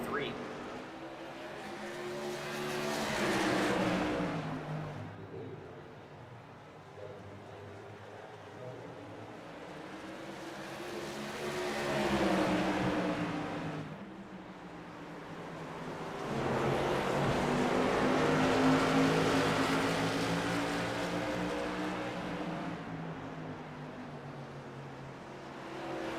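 Whelen Modified race cars roar past on the North Wilkesboro track in waves, engine noise swelling and fading as the field goes by, heard under continuous commentary from two voices.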